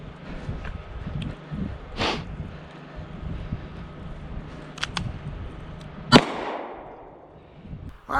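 Gunshots at an off-grid shooting practice: a few scattered sharp cracks of varying loudness, the strongest and closest near the end, against quiet outdoor background.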